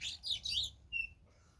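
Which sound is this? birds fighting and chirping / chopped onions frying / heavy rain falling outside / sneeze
birds fighting and chirping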